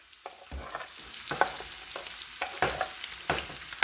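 Onions, celery and garlic fry in a big iron pan, with a soft sizzle under repeated scraping stirs that land in uneven bursts, close and moderately loud.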